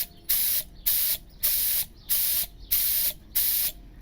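A Harbor Freight air spray gun releases air at about 30 psi through a pressure regulator and water filter. Seven short, evenly spaced hissing bursts are loud and close, with brief quiet gaps between them.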